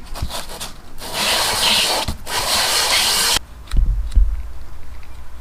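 Fine 1000-grit sandpaper rubbed by hand across the cylinder head of a 1984 Honda Shadow 500 motorcycle, giving two sustained, fairly loud raspy scrubbing passes separated by a short pause, then a few quieter knocks and handling bumps.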